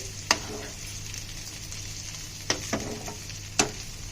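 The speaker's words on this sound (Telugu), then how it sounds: "ఉల్లిపాయలు పచ్చిమిరపకాయలు వేసుకుని కాస్త వేపేద్దామండి" Onions and green chillies frying in a pan with ginger paste, turmeric and salt, a steady low sizzle with a few sharp clinks and scrapes of stirring spaced through it.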